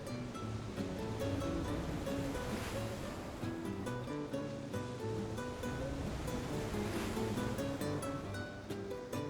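Ocean surf rolling onto Baja Malibu beach in Rosarito, Baja California, a popular surfing spot, heard as a steady, broad wash of breaking waves with no pauses and no voices.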